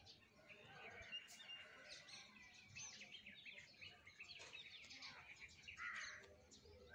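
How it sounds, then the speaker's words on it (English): Faint, distant birds chirp and call outdoors at dawn before sunrise, with a few harsher caws scattered through a quiet background. "You can hear the sounds of birds."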